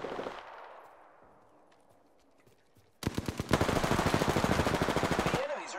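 Rapid automatic gunfire from enemies in the shooter game Apex Legends cuts in abruptly after a fading ambient lull. A loud burst of closely spaced shots follows, then stops.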